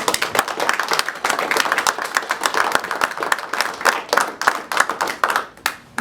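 A small group claps steadily for several seconds at a council meeting, a brisk, uneven patter of hands that thins out toward the end.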